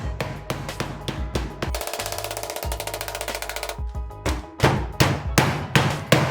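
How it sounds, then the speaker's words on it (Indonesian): Cooked beef for abon being pounded to shred it, a loud close run of rapid, rhythmic thumping blows with short pauses, then heavier separate strikes, no speech. "Berikutnya, suwir daging hingga halus. Bisa dengan cara dipukul-pukul seperti ini."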